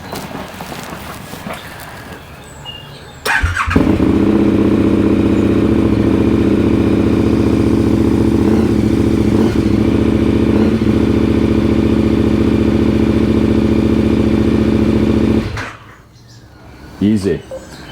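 A KTM motorcycle with a new lithium battery cranks and fires up, then idles loudly and evenly with a steady low throb for about twelve seconds before shutting off, followed by a couple of brief clunks.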